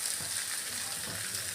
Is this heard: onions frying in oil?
yes